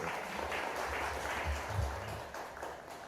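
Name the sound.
audience applause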